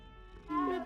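A cat in the Hogwarts Legacy video game lets out a short, close meow-like cry that rises at the end, heard alone for under a second.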